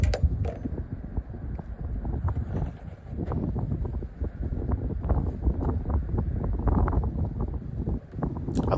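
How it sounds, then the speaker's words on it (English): Outdoor wind buffets the microphone with a steady low rumbling roar and gusty surges, loud and constant across the whole stretch with no speech. "and that's the wind, so excuse that noise."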